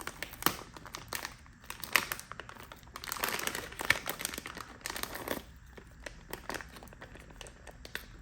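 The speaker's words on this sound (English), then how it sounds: "to open the package, it looks like we just need to tear this open from the top" Reflective plastic packaging of a Mangoal vehicle hardwiring kit is torn open by hand, close and quiet, with crinkling rustles and a few sharp rips in bursts.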